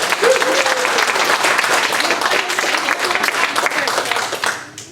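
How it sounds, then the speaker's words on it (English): Audience applause at a Sunday Assembly gathering in Chapel Hill, steady dense clapping from a crowd that holds for several seconds and then tapers off at the end, with a brief voice near the start. "Give these guys a round of applause."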